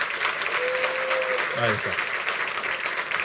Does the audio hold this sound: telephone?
no